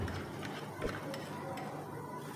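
Half a cup of beaten yogurt goes into a fish curry masala in a pan over a low flame, giving a steady soft sizzle with a faint stirring scrape.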